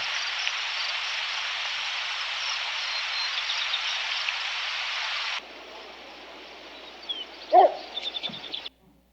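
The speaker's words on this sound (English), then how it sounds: "a yearling wolf woofs at her from across the meadow" A yearling wolf woofs from across a meadow, giving a few short, distant huffs near the end over a steady background hiss.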